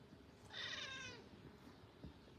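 A cat meows once, a clear mid-length call rising out of a quiet room with low background hum, faint and alone with no talk over it.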